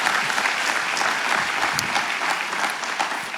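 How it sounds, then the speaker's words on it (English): A business forum audience applauds its sponsors, a full, continuous wash of many hands clapping at close range, steady and unbroken throughout. "So we'd like to have a round of applause for all our sponsors"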